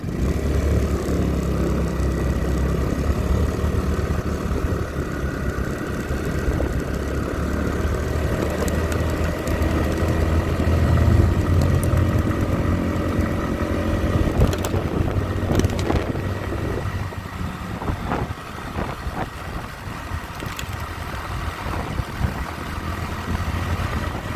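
A Chinese GY6 scooter is ridden along with a continuous engine drone mixed with heavy wind buffeting on the microphone, shifting in pitch as speed changes, and no voices.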